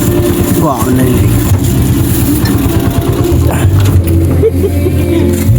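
Motorcycle engine running steadily on a rural provincial road, a close, continuous low rumble with people talking over it.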